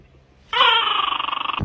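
A dog gives a single drawn-out whimpering whine, rising sharply after a short quiet pause and wavering with a rapid pulsing tremor before cutting off.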